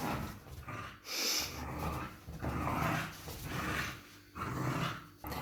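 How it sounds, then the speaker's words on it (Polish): A dog growls in bursts while playing with its owner, low rumbling snarls and snorts repeating close by across the clip, with short breathy pauses between them and no talk. "Zabawa z psem dla leniwych."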